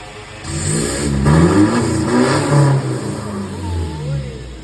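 A car engine revs up and down a few times close by, its pitch rising and falling in quick throaty bursts.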